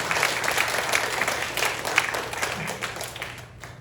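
A church congregation claps together during an afternoon worship service, a dense steady applause that fills the room and tapers off slightly toward the end.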